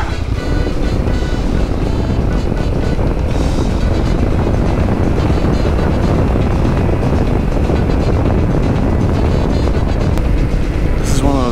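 Yamaha Tenere motorcycle riding along a road, with steady engine drone and heavy wind rush filling the whole stretch at close range. No clear shift breaks the even roar, and a faint voice is buried under it.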